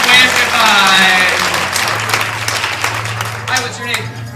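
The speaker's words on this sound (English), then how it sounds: "Give them a big round of applause, everybody." Audience applause at a live stage hypnosis and magic show, a dense wash of clapping that starts loud and slowly tapers off over several seconds with voices mixed in.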